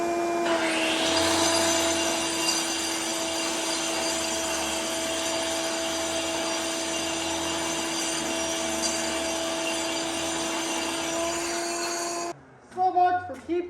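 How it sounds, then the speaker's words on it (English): A floor grinder roars steadily across a floor during a house rebuild, a loud close whine with a constant hum lasting over twelve seconds before cutting off, followed by a short burst of talking. "It's only 2 feet maybe of grinding to do"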